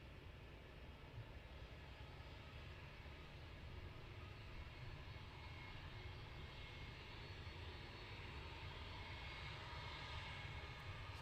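An airliner taxis at Luton Airport toward departure, its engines giving a steady, continuous roar that holds at a fairly even level throughout with no pauses, no one speaking, and no voices over it.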